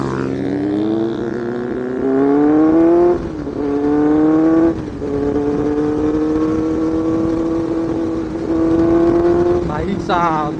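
A Benelli 600i superbike pulls hard through rising engine revs, the note climbing, dropping briefly at gear changes, then climbing again. Voices can be heard faintly alongside.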